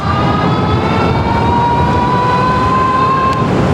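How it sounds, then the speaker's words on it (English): A loud, rising electric motor whine runs under heavy wind and road rumble as an Ariel Rider X-Class 60V electric scooter speeds up at full throttle. "Full power, full throttle."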